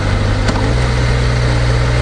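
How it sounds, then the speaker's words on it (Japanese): A Kawasaki ZX-25R motorcycle idles in neutral, its engine a steady close hum with a low continuous throb and a brief click near the start. "もうこの時点でちょっとアイドリングが上がるんですよ"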